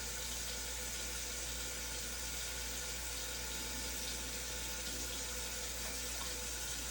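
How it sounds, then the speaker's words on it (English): A tap runs steadily into a sink while hands are scrubbed and rinsed, giving a continuous, even rush of water with no talking. "Scrubbing between my hands, at the back of my hands, and then rinsing my fingers, pointing down from my wrist."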